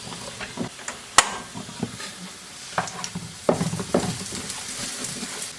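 Peppers roasting in a hot pan sizzle softly beneath scattered clinks and scrapes of stirring and flipping, with a few sharp knocks standing out.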